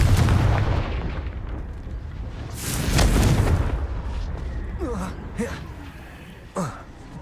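Confringo blasting spell from Hogwarts Legacy bursts in a heavy, booming blast that swells around the midpoint, followed by a few sharper crackling magical hits and a short whoosh near the end.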